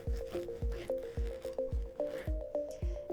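A knife sawing through a loaf of bread, with quick, evenly spaced strokes heard up close, each giving a soft squishy crunch and a faint squeak.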